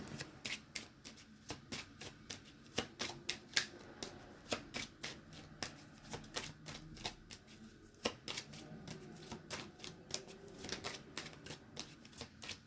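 Fortune-telling cards being shuffled and flipped over, giving a close, crisp run of rapid papery riffles and snapping clicks in an uneven rhythm, with no talking.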